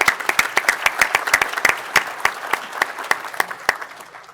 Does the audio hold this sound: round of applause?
yes